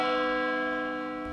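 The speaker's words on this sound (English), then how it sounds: "The service started with the church bells ringing in funeral tolls early in the morning." A single church bell tolls for a funeral memorial service at Kohima, one loud ringing strike with a rich, sustained tone slowly fading across the short moment, no voices.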